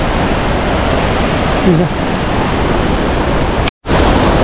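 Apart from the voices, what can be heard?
Antankoyo waterfall at 2750 metres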